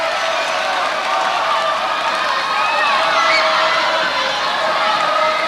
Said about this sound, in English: So give yourselves a cheer, everybody.